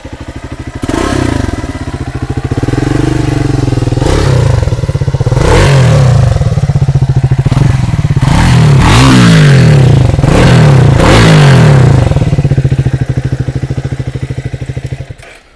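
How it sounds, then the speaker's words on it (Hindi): A Triumph Speed 400 motorcycle exhaust runs loud and close, idling with a steady throb and then blipping the throttle in several revs before settling and cutting off near the end. "ये था ट्राइम स्पीड 400 का एग्जॉस्ट नोट की आवाज़"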